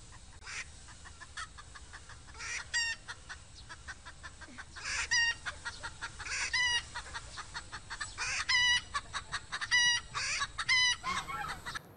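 Adult chickens cluck repeatedly while a rooster crows several times, the calls coming in bursts of rising and falling intensity over a steady farmyard background, with no voices.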